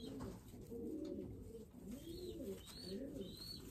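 Racing pigeons coo close by in soft, low, rolling phrases that repeat steadily over a faint background hum.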